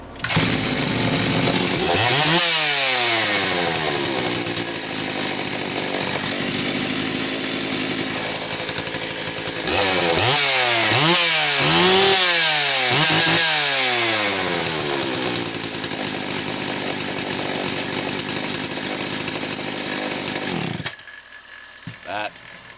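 A Husqvarna 61 Rancher chainsaw engine runs close and loud, revving up and down in several sweeping bursts before idling, then cutting off abruptly near the end.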